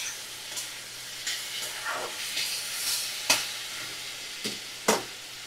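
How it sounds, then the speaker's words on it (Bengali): Koi fish curry sizzling and frying in a pan while being stirred, with steady hissing and several sharp scrapes and clinks of the spoon against the pan, close and moderately loud, with no speech. "এবার ভালো করে নাড়াচাড়া করে নেব"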